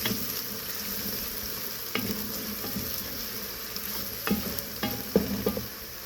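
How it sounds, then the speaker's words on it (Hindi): Ginger garlic paste frying in a pan for beef nihari, a steady close sizzle broken by several sharp stirring scrapes and clinks of a spoon against the pan. "अदरक लहसुन पेस्ट को मैं अच्छे तरीके से फ्राई करूँगी, भूनूंगी।"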